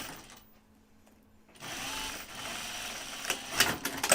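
A domestic sewing machine stitches a fabric bag, starting up after a quiet moment and then running in a close, steady mechanical whir with a few brief louder clatters.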